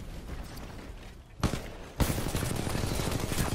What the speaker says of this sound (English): what if I can actually kill this Titan just with an assault rifle?